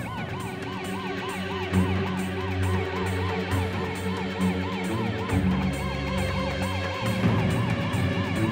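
A police siren wails continuously in a rapid, rising and falling pattern over a low engine rumble, steady and fairly close, with no talking.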